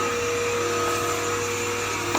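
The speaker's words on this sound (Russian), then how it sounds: "Ой, наверное, пылесос шумит." A vacuum cleaner runs nearby in a home, a loud steady motor whine with a constant tonal hum that holds without break.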